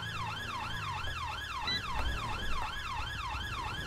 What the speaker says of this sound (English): I'm going to turn blue light sirens off.